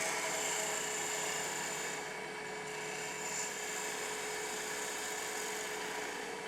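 A wood lathe tool cuts a quarter inch tenon, a steady, whining, high-pitched hum with an even tone throughout, heard close and alone.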